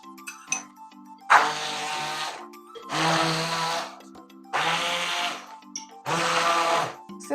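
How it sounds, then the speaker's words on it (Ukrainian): A blender whirs loudly in four short bursts, each about a second long, separated by brief quiet pauses, blending cheese, eggs and starch for a cheese-pumpkin casserole. "будемо подрібнювати блендером, щоб не було грудочок"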